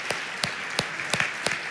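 A congregation claps in sharp, evenly spaced bursts for baptism candidates at a church service, the rhythmic hand claps ringing out close and bright with no voices over them.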